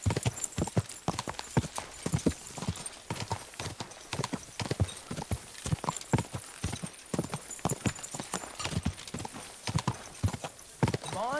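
Horse hooves clip-clop rapidly and steadily in the video game Kingdom Come: Deliverance 2, a busy galloping rhythm of sharp hoof strikes close by, with a brief whinny near the end.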